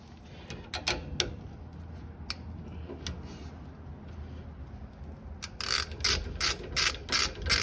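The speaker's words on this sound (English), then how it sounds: "It's a size 13 socket to get back here to remove this bolt" A ratchet with a size 13 socket clicks rapidly in short runs while loosening a brake bolt on a 2012 Ford F-150, close and crisp, with louder bursts of ratcheting near the end.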